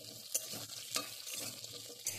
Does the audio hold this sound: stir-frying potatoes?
yes